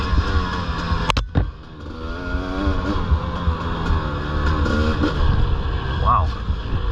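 A dirt bike engine drones and revs steadily while being ridden on an enduro trail, loud and continuous with shifting pitch, someone talking over it and brief wind buffets near the start.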